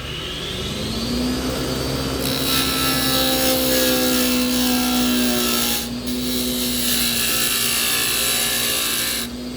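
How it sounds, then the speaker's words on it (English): A freshly sharpened spindle gouge cuts barnwood spinning on a lathe, a steady loud whine and hiss of shaving with the motor hum sliding up in pitch, close and continuous, briefly dipping near the end. "we have a freshly sharpened spindle gouge"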